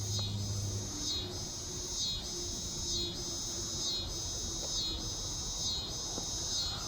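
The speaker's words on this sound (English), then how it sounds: "Listen to those cicadas." Cicadas in Arkansas drone steadily in a continuous high-pitched chorus that pulses in regular waves about once per second, heard at moderate distance over a low rumbling background.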